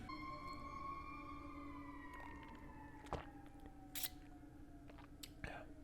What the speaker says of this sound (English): I gotta pause for sirens now